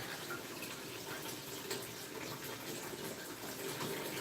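Water runs steadily from a tap to fill a tub, giving a constant broadband rush that stays even and moderately loud throughout, with no talk.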